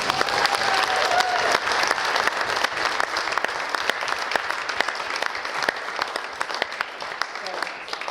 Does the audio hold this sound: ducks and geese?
no